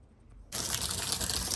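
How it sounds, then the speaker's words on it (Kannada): Water from a tap gushes into a water tank, starting abruptly after a brief quiet moment and then running loud and steady, close by. "ಈ ಟ್ಯಾಂಕಿಗೆ ನೀರು ತುಂಬಿಸ್ತೆ"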